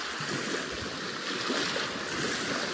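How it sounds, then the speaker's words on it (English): Waves wash continuously against the shoreline at Pennan, a broad steady rush of surf with no voices, close and full. "Love that sound of the water hitting the shoreline there."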